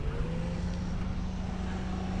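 Daihatsu Hijet mini truck idling along in first gear, a steady low engine drone with a constant hum and no rise or fall, continuous and fairly close, with no talking.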